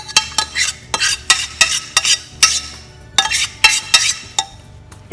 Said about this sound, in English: here we'll just spread out the potato cauliflower mixture on top